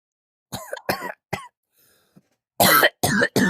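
A string of short, sharp coughs close by, a few spaced bursts, a quiet pause, then three louder hacking coughs in quick succession.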